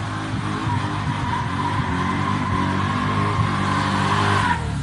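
A 5.7-litre Toyota Land Cruiser Troopy called the Super Troopster launches at an NHRA drag race, a loud sustained engine roar with rising revs and some tyre noise, close and continuous, ending in an abrupt cut-off.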